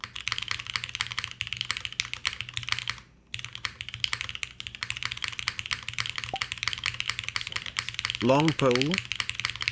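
Steady, fast typing on a mechanical keyboard with Cherry switches and no desk pad: a dense, close clatter of keystrokes with a brief pause, plus a short spoken remark and a faint warbling tone near the end.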